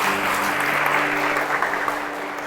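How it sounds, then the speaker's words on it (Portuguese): A church congregation breaks into loud, continuous applause during a sermon, with a steady crowd of clapping hands and a faint low hum beneath, no distinct speech on top. "Será que Deus merece uma salva de palmas"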